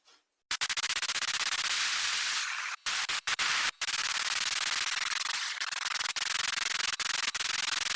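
Compressed air blasts into a Lexus IS brake booster valve with moisture inside, a loud hissing spray held for several seconds and broken by a few short stops and quick bursts.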